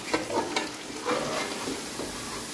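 Onions fry in a pan for a bhindi chicken dish, a steady close sizzle broken by a few scrapes as they are stirred until soft.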